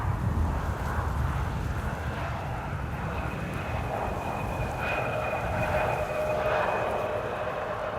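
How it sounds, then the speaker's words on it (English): A KLM Embraer 175 airliner arriving from Norwich at Amsterdam Schiphol in windy weather, a steady near engine roar with a thin whine rising above it, heard alone without voices. "KLM flight 1056. Arriving from Norwich, Embraer 175."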